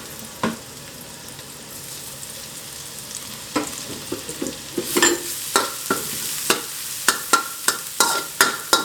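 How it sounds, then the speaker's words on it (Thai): Garlic frying in oil left over from frying chilies, sizzling steadily while a spatula scrapes the pan in sharp, quickening strokes that grow louder and more regular toward the end. "อันนี้ก็ทอดกระเทียมให้เหลืองหอมนะคะ"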